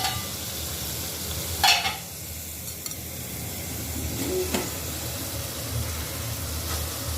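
Tengra fish and boiled potatoes sautéing in a pan with ground spice paste, a steady low sizzle with a few scraping stirs of a spatula against the pan, close and moderately loud, no talking.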